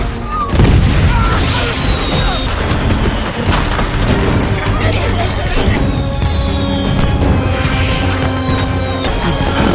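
Fireworks explode in a scene from a television series about a deadly outbreak, a dense run of loud booms and crackling bursts mixed with music and other sounds over nearly ten seconds.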